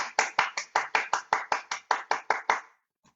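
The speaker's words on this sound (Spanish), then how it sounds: "darle una ronda de aplauso a nuestros expositores" Online conference participants applaud the speakers with a run of about thirteen sharp, evenly spaced claps that sound like a single person close to the mic, followed by silence.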